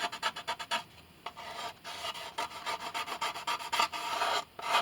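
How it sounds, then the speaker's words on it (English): Old glue scraped off a crushed-rib violin top with a hand tool, heard as close, rhythmic rasping strokes that come in quick bursts with short pauses, and no talking. "before we glue the new patches on, we scrape off the old glue"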